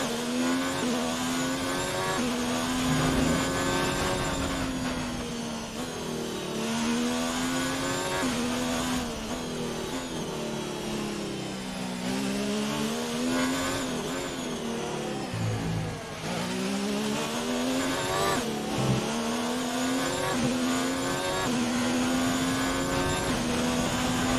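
A Formula 1 race car engine in the F1 2019 video game at the Chinese Grand Prix, revving loud and steady for the whole stretch, its pitch climbing and dropping through gear changes.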